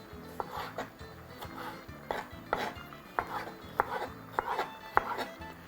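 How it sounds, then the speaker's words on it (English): A kitchen knife chops vegetables into small cubes on a board. The sharp taps come in a steady rhythm, close and fairly quiet. "we're also going to chop those into some small cubes"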